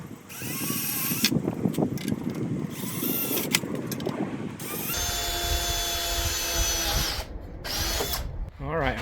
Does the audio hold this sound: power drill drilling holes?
yes